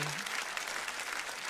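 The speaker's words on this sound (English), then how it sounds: "There we go, little applause." Applause from a recorded live music performance, a faint, steady wash of clapping from a crowd heard at a distance.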